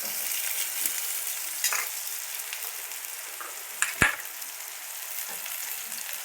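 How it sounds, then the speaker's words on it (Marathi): Onion frying in oil in a pan, a steady close sizzle running throughout, with a few brief stirring scrapes and one sharp knock of a utensil against the pan partway through; no one talks. "चांगलं तेलात परतायचं बघा."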